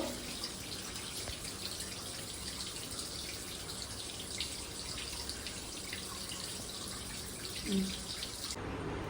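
Water runs steadily during a bath, a continuous close splashing hiss with a faint splash near the end before it cuts off abruptly.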